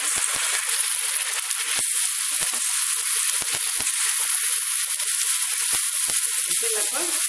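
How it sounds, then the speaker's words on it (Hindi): Dry dates being roasted in a pan for halwa, a steady bright sizzling hiss with scattered sharp pops and ticks, close and even, no talking. "इसे भून लेना है।"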